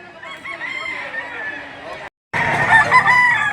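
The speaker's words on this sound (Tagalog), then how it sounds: "Ayan ang mga manok nila." Roosters crow loudly and close by at a rooster market in Lipa City, Batangas, one long call followed after a brief cut by another, overlapping with more crowing.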